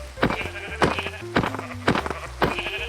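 Sheep in the Minecraft video game bleat five times in quick succession, short clear bleats spaced roughly half a second apart, loud and close with no talk.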